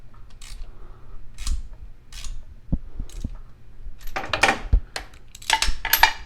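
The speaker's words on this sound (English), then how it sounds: "put our socket on our spark plug and go ahead and push left and loosen her up" Socket wrench loosening a spark plug on an 87-93 Foxbody Mustang, heard as scattered close metallic clicks and ratcheting bursts with short pauses, growing busier and louder toward the end.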